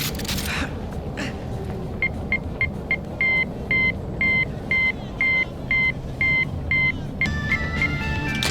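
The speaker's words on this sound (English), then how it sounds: "That, my friends, is Morse code." A steady series of short and long electronic beeps taps out a Morse code pattern over a low rumbling backdrop in Call of Duty: Infinite Warfare Zombies, fairly loud and evenly spaced.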